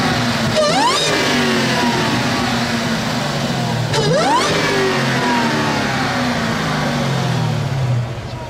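A 2015 Dodge Challenger SRT Hellcat engine revs hard twice, each climb in pitch followed by a falling, throaty, rumbling exhaust note, loud and close with no talking.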